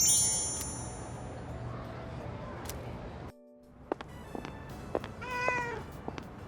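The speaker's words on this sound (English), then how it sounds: "Was that a cat's meow?" A cat meows in the video game Persona 3 Reload: a few short, clear, tonal meows in the second half, after a brief drop to near silence, over soft game ambience and chimes.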